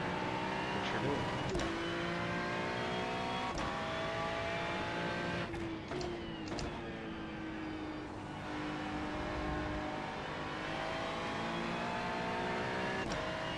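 Engine of a Ferrari 296 GT3 race car in iRacing at Watkins Glen, roaring close and loud through upshifts and downshifts with sharp breaks between gears, with occasional speech over the engine.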